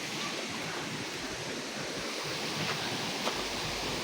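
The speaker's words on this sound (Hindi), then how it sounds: "ये सारा चश्मे का पानी है जो पाइपलाइन के ज़रिए" Spring water piped in at a scenic family park, pouring in a steady, broadband rush that stays even and fairly close throughout, with no voices over it.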